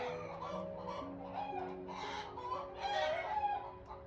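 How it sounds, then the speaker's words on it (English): Rescued battery hens and roosters clucking nearby, with overlapping calls and a louder burst of clucks near the end, close and without talk. "Her roosters are over here behind me."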